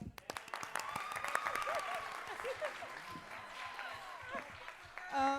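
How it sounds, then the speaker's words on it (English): Audience applause at a college activities council club event, a sustained spread of clapping with voices and chatter mixed in, fading toward the end where a louder tonal sound enters. "Let's give a round of applause."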